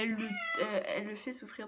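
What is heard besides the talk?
cat meowing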